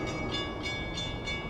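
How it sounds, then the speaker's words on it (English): A train rumbles past a New Jersey burger and hotdog spot, a steady moderate roar with a faint repeating clatter of wheels and no voices. "The train's coming."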